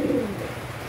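A racing pigeon gives a low, soft coo close by in a single brief burst at the start, then fades into a quiet loft background with no voices.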